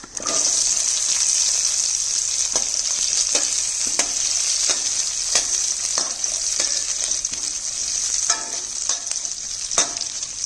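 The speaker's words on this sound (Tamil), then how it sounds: "இப்போ வந்து வெங்காயம் போட்டுக்கலாம்" Onions frying in oil in a pan, with a steady close bright sizzle throughout and repeated scraping stirs and clinks of a spatula, no voices.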